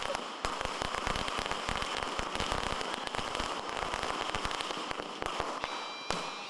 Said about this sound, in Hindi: पटाखों की आवाज से डर गई मैं।